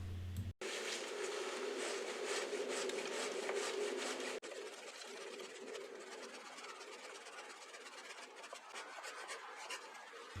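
A kousa dogwood branch is sawn during winter pruning, giving a continuous close rasping of a blade through wood that stops abruptly, then resumes as a softer, steady rubbing.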